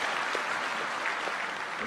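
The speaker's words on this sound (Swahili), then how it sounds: "Nipigieni makofi" Crowd at a Bomas gathering in Kenya applauding, a dense continuous wash of clapping from many people, steady and moderately loud with no speech.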